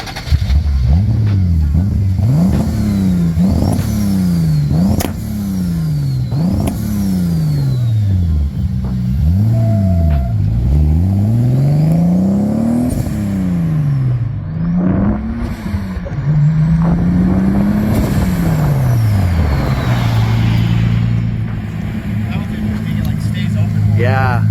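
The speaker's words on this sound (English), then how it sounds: "The turbo flutter almost sounds better." Turbocharged engine revving repeatedly with blow-off valve flutter from 3D printed SSQV inserts, loud rising and falling engine sweeps close by, each lift-off followed by chattering flutter, settling into a steady idle near the end.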